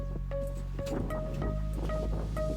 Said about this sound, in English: The rain has started already, but we are still waiting for it to get here.